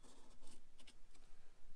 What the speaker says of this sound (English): I take my marker, I draw around here.